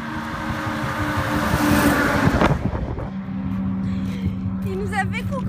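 A truck on a desert road roars in close and loud, then eases off and slows to a lower steady engine hum, with people talking over it.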